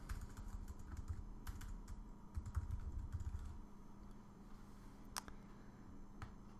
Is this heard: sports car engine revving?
no